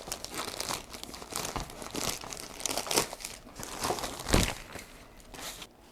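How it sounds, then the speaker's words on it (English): A thick, firmly stuck plastic bag from a smart telescope box is crinkled and ripped open up close, with loud irregular crackles and tearing bursts. "it's got this really thick plastic bag and it's well stuck down, so I'm going to have to rip it open"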